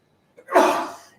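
One sharp, close human sneeze, starting with a short intake of breath and then a loud burst that fades out over about half a second.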